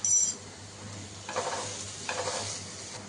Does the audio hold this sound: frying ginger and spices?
yes